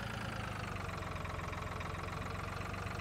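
A small tractor engine idles steadily in Farming Simulator 2013, a constant, loud, even rumble that stays unchanged throughout with no talking.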